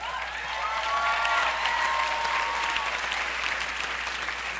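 Graduation audience at New College applauds, a steady, full round of clapping from a large crowd that holds evenly throughout.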